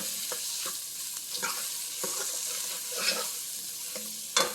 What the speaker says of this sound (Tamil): ஸ்டவ்வை சிம்மில் வச்சுக்கிட்டு நல்லா மசாலா பொரியட்டும்